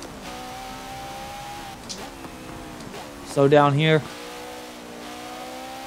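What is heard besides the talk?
Porsche engine revving and drifting in video game Forza Motorsport 7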